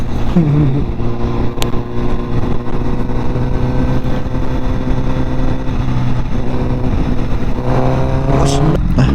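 Honda CBR1000RR sport motorcycle ridden in second gear, its engine droning steadily and loudly with wind rush throughout, while a rider talks over it.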